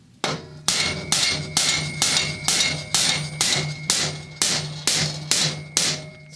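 Hammer blows on hardened bolts in a lawn leaf vacuum chipper built from junk parts, about a dozen loud metallic whacks struck at a steady, evenly spaced rhythm, close and ringing, with no talk.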